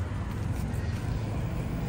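A motorcycle passes close by at night in a residential street, its steady engine drone filling the low end alongside wind and nearby voices.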